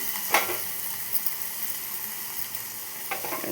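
Ajwain leaves frying in a pan, making a steady soft sizzle with a couple of brief crackling bursts near the start and end, heard up close with no voices.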